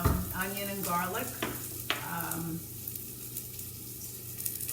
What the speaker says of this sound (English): We're going to put this ground beef and mix it in with the onion and garlic.